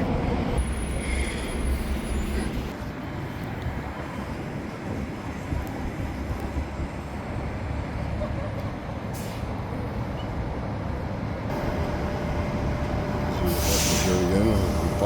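A five-car commuter train near downtown Westminster works up a hill with a steady rolling rumble, while people talk nearby and a faint tone comes in toward the end.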